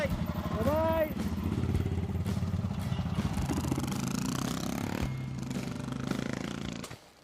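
Adventure motorcycles rev and pull away, their engines rumbling steadily and close by for several seconds before cutting off, with voices talking over the engine noise.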